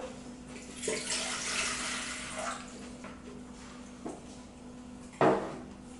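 Water, one and a quarter cups, poured into a bowl for homemade bread, a steady trickling stream lasting several seconds, followed by a sharp clunk of a container being set down.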